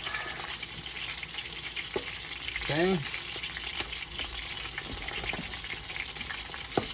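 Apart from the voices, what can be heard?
juice hitting hot grease in a frying pan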